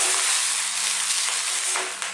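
Steady broadband hiss and crackle of rice with bell pepper frying in a hot pan, continuous and fairly loud, with no voices.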